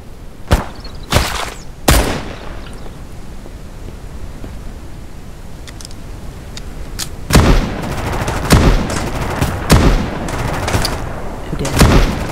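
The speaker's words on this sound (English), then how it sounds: "See, the moment I try and shoot him" Gunshots ring out in the survival video game Mist Survival. Three sharp, loud shots come in quick succession, then after a quiet stretch a second burst of about six shots follows at uneven intervals.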